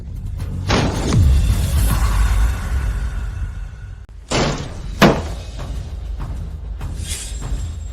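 Loud, close banging on a door in a tense domestic confrontation, several heavy slamming thuds in separate bursts with reverberant room tone between them and no clear speech over the blows.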